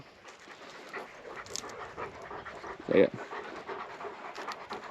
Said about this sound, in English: Big dog, full attitude, but pretty cool.